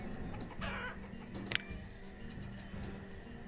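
Chickens cluck softly and repeatedly in the farming town-builder game Banished, over a low steady ambient game background, with one brief sharp tick partway through.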